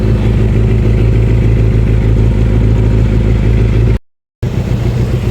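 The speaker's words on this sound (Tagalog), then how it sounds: "Ganda ng makina na ito, oh. Tahimik pa, oh. Ayan, stable na yung minor nya." A Suzuki Impulse 400cc motorcycle engine idles after carburetor tuning, a loud, close, steady low throb with even firing and a brief dropout in the sound just before the end.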